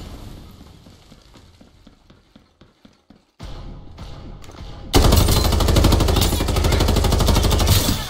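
Rapid bursts of video game gunfire crackle in quick trains, first sparser and lighter, then a dense, loud sustained burst of automatic fire in the last few seconds.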